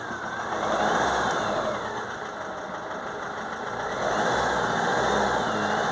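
A Fiat Ducato van's diesel engine, struggling with DPF soot accumulation, idles on its own with a steady clattering drone and a slight rise and fall in pitch, heard up close.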